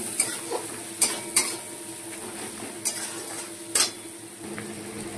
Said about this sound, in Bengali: এবার দিয়ে ভালো করে এগুলোকে মিশিয়ে নেবো